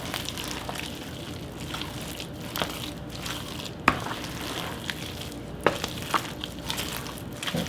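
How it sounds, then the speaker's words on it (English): Potato salad ingredients being stirred together in a bowl, giving soft wet squishing and scraping with a few sharper clicks of the spoon against the side, close and steady, with no talking. "And stir it in. Get it all in there."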